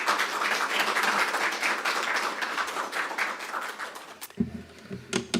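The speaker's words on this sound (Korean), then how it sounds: "크게 환영의 박수로 환영해 주시면 감사하겠습니다" Church congregation applauding to welcome a guest pastor at a Sunday service, a full steady wash of clapping that cuts off abruptly near the end as a voice begins.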